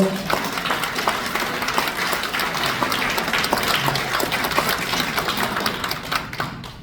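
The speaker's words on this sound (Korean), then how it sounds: "우리 장년 조원일 대사를 위해서 다시 한번 박수를 주십시오" An audience at a rally in the Korea Press Center's 20th-floor press club applauds Ambassador Cho Won-il, a thick, sustained patter of many hands clapping at close range that tapers off at the end.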